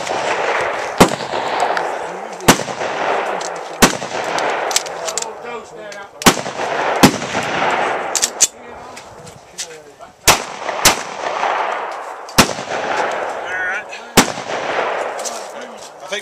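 Sharp, loud 9mm pistol shots firing Brown Bear ammunition ring out one at a time at irregular intervals, about a dozen in all, with indistinct voices between them.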